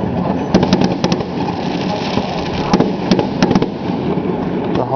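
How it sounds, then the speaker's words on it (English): Fireworks bursting over a city, heard from an apartment window, a continuous far-off rumble broken by clusters of sharp cracks and pops, loud and without voices. "The whole city is surrounded by fireworks."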